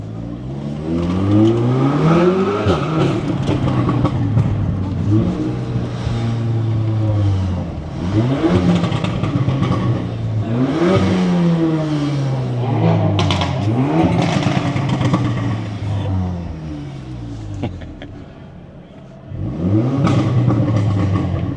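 A straight-piped Audi S3 revs repeatedly through London streets, each loud, rising engine sweep climbing and falling in a series of bursts heard from close by, with a brief lull before a final surge.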